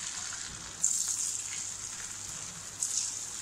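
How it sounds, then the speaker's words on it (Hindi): Rice nachos frying in hot oil, giving a steady close sizzle and crackle that stays constant throughout with occasional slightly louder spits and no talking. "इस तरह से फोक करने के बाद अब हम लोग इसको फ्राई कर लेंगे"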